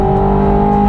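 Ferrari 430 Scuderia engine held at high revs, a steady loud howl with strong sustained harmonics, close and continuous for under a second with no talk.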